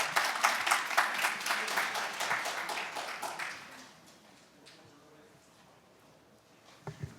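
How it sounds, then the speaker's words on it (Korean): An audience at a conference plenary session claps loudly and steadily for several seconds, then the applause fades away into a quiet room with a couple of faint knocks near the end. "큰 박수 부탁드리겠습니다"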